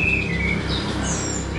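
A white-rumped shama sings a few clear, whistled phrases over a constant low background hum; the song is short and moderately loud.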